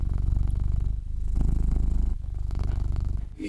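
A cat purrs close up in a steady, loud, rhythmic rumble, each breath cycle audible as a pulsing throb, with a brief rustle near the end.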